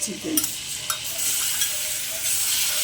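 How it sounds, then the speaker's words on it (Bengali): Marinated chicken frying in butter in a kadai, a steady bright sizzle with stirring scrapes and clatter near the start, close and continuous. "চিকেনটা আমি লাল লাল করে ভেজে নেব। নাড়াচাড়া করে ভেজে নিচ্ছি।"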